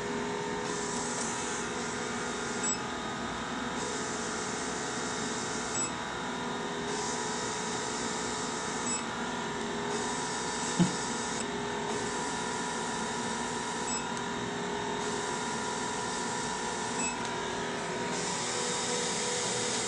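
A steady, low mechanical hum and whir comes from an Isolaz skin treatment device as it draws vacuum suction during a facial session. A faint pulsing repeats every couple of seconds, and a brief tick lands near the middle. No one talks.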